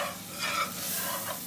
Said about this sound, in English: Just keep whisking it.